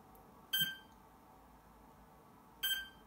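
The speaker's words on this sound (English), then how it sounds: "this is only the motor controller that's doing the beeping there" Two short electronic beeps from an RC helicopter's motor controller, evenly spaced about two seconds apart, thin and tonal over a quiet background.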